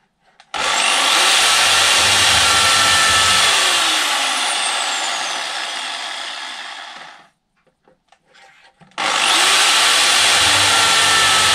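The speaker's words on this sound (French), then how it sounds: "Je perce." A power drill bores into wood through a dowel jig, giving a loud, steady whine with a rising grinding texture. It stops briefly, then starts again at full volume.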